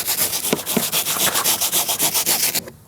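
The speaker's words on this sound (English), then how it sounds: "So let's soak it first and scrub." Repeated scrubbing on a soaked car interior door panel, a steady rhythmic rubbing with about a dozen close, loud brush strokes in quick succession, then stopping abruptly.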